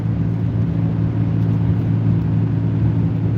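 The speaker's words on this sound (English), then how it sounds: "Hundreds of cars coming out." Cars merging onto the I-80 highway make a continuous low engine and road-tire rumble heard from inside a moving vehicle, steady and fairly loud with no breaks.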